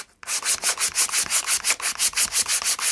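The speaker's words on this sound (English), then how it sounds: "just doing the final rub with some sandpaper to hopefully let this grip slide right on" Sandpaper rubbed back and forth over a Suzuki DL800 V-Strom handlebar grip, a steady train of about fifteen rhythmic, close-up scraping strokes with no talk.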